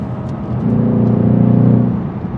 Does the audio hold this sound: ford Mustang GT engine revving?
yes